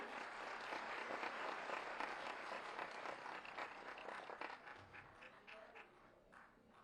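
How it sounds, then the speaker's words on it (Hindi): Faint clapping from an audience at a government ceremony handing out appointment letters to staff nurses, steady at first and then thinning out toward the end, heard from a distance. "आप सभी अपनी तालियों की शुभकामनाएं मंच तक पहुंचाएं।"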